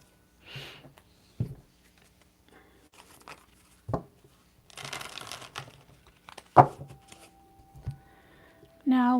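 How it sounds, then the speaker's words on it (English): Tarot cards are shuffled in short, scattered bursts of riffling and flicking, with one longer papery flurry, set among quiet pauses and brief voice sounds. "Just going to shuffle the cards a little bit."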